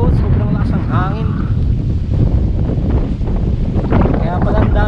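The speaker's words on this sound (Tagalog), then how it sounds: "Sobrang lakas ang hangin." Strong wind batters an open lakeside surf campsite, buffeting the microphone with a loud, continuous low roar and rumble throughout, with a voice faintly heard beneath the gusts.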